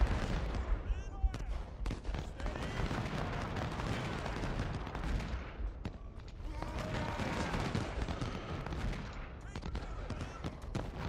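Battle in the strategy game Ultimate General: Civil War, with a dense, continuous roar of massed musket fire and booming cannon shots crackling throughout, loud and busy, under a voice.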